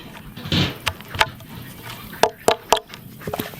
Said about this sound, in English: I just start working it loose with a screwdriver to break these out